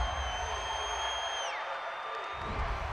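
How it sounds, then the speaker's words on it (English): Stadium crowd at an NFL game between the Baltimore Ravens and Los Angeles Chargers, reacting against a roughing-the-passer penalty call: a steady, loud roar of many voices with whistling tones, sustained throughout. "Well, this crowd does not like that call."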